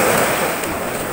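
Surf at a beach where the sea is rough and noisy rather than calm, making a steady, loud, broadband wash of waves that fills the whole moment without break.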